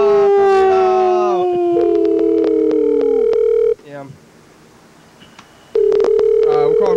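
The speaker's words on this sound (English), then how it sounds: "We're calling Freddy now." Telephone tones while placing a call: a sliding, howl-like vocal sound opens, then a steady electronic ring tone holds, drops out to near silence, and returns loudly near the end, with clicks throughout.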